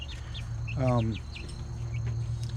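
Young Americana and Buff Orpington cross chickens give soft, faint chirps and a brief rising call outdoors, scattered over a low steady background hum.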